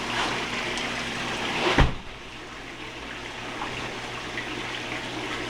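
A hot tub running in filter clean mode gives off a soft, steady gurgle of circulating water with a faint pump hum. One brief louder splash comes partway through, then the quiet flow continues.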